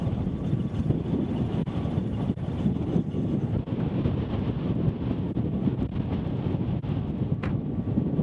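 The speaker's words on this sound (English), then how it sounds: "it's quite a windy day." Steady, roaring wind buffets the microphone on a heather moor above Halifax, a continuous rumbling gust with no pauses and nobody speaking.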